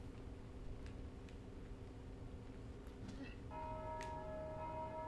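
A bell is rung in the video game Dark Souls 2, with faint distant strikes and then a sustained resonant ring near the end, heard over a quiet low hum.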